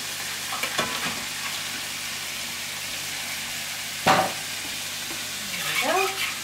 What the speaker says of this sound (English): it's time to add all of those vegetables that we put through the food processor